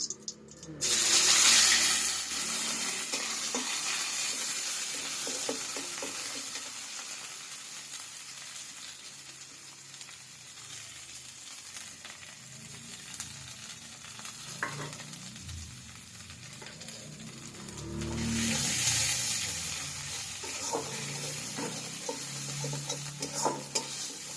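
Spice paste sizzles and fries in a pan while being stirred, a steady close hiss with scraping strokes, swelling louder near the start and again later on.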